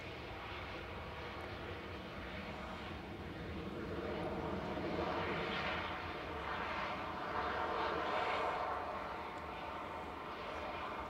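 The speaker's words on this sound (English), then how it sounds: "Royal Jordanian in the One World livery, just touching down. And rolling out." A Royal Jordanian airliner in oneworld livery touches down and rolls out at Manchester Airport, a steady broadband engine and reverse-thrust roar sustained throughout and swelling slightly midway, with no voices.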